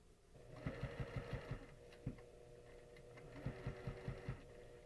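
Sewing machine stitching a quilting project around a curve, running in two quick bursts of rapid, evenly pulsed stitches separated by a short pause and a single stitch, close and clear with no talking.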